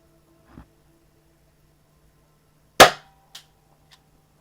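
A BB pistol fires a single sharp, loud crack at a cardboard box, followed moments later by a smaller impact knock and faint rattle, with quiet handling sounds before the shot.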